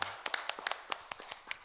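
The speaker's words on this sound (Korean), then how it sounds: "하나님께 영광의 박수 올려드리겠습니다." Scattered applause from a church congregation, quiet and thin with separate hand claps picked out in an uneven rhythm, heard at a distance in a worship hall.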